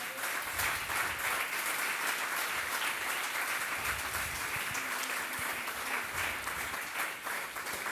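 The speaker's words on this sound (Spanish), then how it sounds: "Dele una ofrenda de palmas al Señor" A church congregation applauding, steady, dense clapping from a large crowd that lasts several seconds at an even level.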